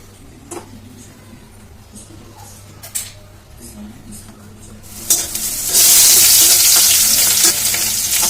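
Meat and vegetables drop into hot oil in a home kitchen: after a few quiet clinks and taps, a loud, steady sizzle bursts up and keeps frying close by, with no talking over it.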